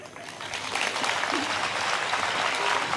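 Applause from an audience at a stage show, a dense steady patter of many hands clapping that swells slightly after the first moment and holds at a fairly loud level throughout.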